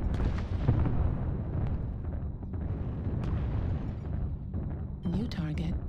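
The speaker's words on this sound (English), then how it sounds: "Artillery strike." Artillery strike explosions in a video game, a continuous rumbling barrage of booms and blasts with sharper bursts around the middle, and a voice speaking briefly near the end.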